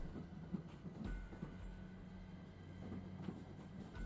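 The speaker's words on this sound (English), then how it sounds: "The only sound is the rattle of the train along with the tracks" Inside a train in the game Code: Realize, the carriage rumbles low and steady along the tracks with faint rhythmic clacks and a thin metallic hum, quiet and continuous.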